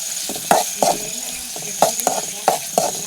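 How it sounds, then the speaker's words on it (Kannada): Fish roe frying in a little oil in a pan on a gas stove, with a steady close sizzle broken by periodic scraping stirs. "ಸ್ವಲ್ಪ ಎಣ್ಣೆಯಲ್ಲಿ ಹೀಗೆ ಫ್ರೈ ಆಗಲಿ"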